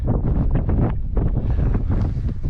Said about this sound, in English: A bit breezy, but it's okay today.